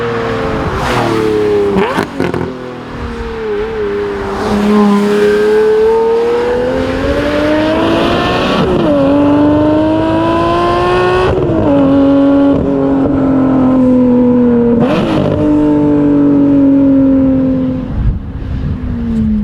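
Lamborghini Murciélago supercar engine on the move, a loud, raw note rising and falling through repeated revs and gear changes, with sharp shifts between pulls, heard close throughout.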